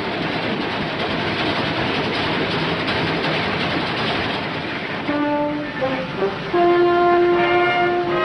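A train rumbles past in a steady, loud wash of rail noise, and near the end a horn blares in held, overlapping tones.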